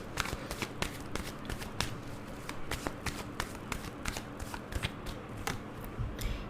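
Tarot cards shuffled by hand for a clarifier card, a fast continuous riffling and flicking of cards with sharp snappy ticks, close and fairly quiet, no talking.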